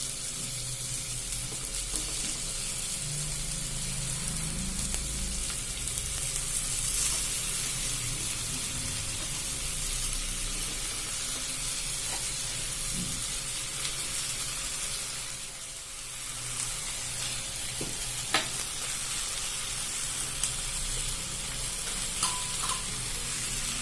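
Potatoes for a spicy potato curry sizzle steadily in an oiled pan, a dense even frying hiss that runs throughout with occasional faint clinks and stirring knocks, close up and without talk.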